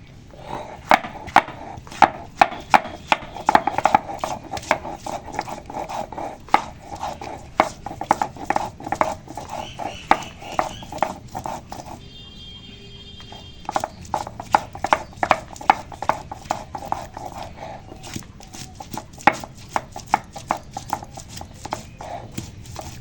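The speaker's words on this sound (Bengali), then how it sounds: "এই আদা টুকরো করে নিয়েছি এবার আদা বাটবো" Chopped ginger is pounded or ground by hand in a fast, steady series of sharp knocks and thuds, with a brief pause midway before the rhythm resumes, no voices.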